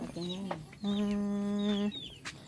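Chickens cluck and call nearby in a rural Thai setting, with several drawn-out tonal calls and short clucks in a row over low background noise.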